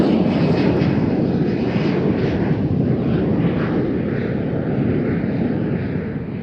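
Loud, steady aircraft engine roar at Amsterdam Schiphol Airport beside the Polderbaan runway, a dense continuous rumble close by that holds throughout with only slight easing near the end.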